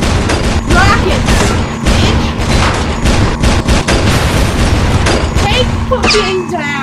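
Rapid, heavy booms and blasts from rockets pile up without a break in the car combat game Burnin' Rubber 5, loud and dense from start to finish.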